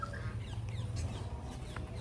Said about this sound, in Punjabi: ਇਹ ਤਾਂ ਮੁਰਗੀ ਹੈ